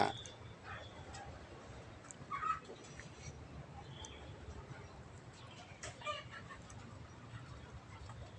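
Fighting cocks in a garden yard clucking and crowing, faint and somewhat distant, with a couple of brief louder calls standing out against a quiet outdoor background.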